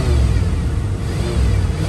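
A 1986 Jeep Grand Wagoneer engine running, a loud, close, steady low rumble that holds without a break.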